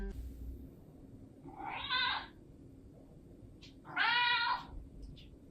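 Two drawn-out cat yowls, each a wavering, nasal meow lasting about half a second, separated by a pause over low background noise.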